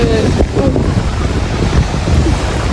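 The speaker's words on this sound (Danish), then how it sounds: "Selvom det blæser." Strong wind buffets the microphone outdoors by the sea, a continuous loud rumbling gust with faint surf beneath it and no clear speech.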